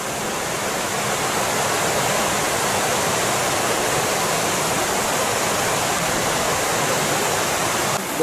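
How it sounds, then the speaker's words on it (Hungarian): Rapids of the Rienza river in the Eastern Alps roar as a loud, steady, broadband rush of turbulent water, unbroken and with no voices. "Rianza folyó. Az Zuhatagos része, itt meg valami üzemvízcsatorna van."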